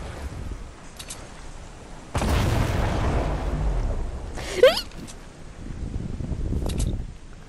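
Guided missile blast in Fortnite Season 6: a broad rumbling explosion bursts in and rolls on for a couple of seconds, followed by a short whistling pop and scattered game noise, with faint voices around.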